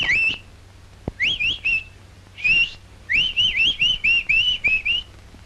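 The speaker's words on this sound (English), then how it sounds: "Ever heard the nightingale?" Nightingale song in a series of clear, whistled warbling phrases with short pauses between them, bright and fairly close over a quiet background.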